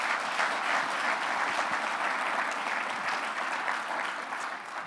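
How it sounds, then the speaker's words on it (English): A crowd at an awards ceremony claps steadily and enthusiastically, a dense wash of applause that tapers slightly at the end. "another round of applause for all of our finalists and winners"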